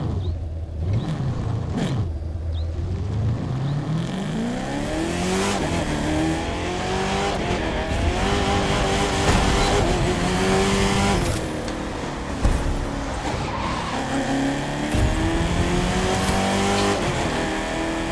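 Racing game engine sound of a Camaro in The Crew 2, a steady loud drone of engine note rising and falling through gear shifts with squealing tires, running throughout without voices.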